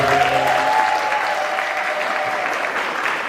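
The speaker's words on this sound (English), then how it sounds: "Give that another round of applause." An audience at a Trinidad and Tobago Independence ceremony gives a sustained round of applause, loud and dense, with a brief voice over the start before the clapping carries on steadily.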